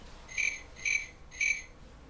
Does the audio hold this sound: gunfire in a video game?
no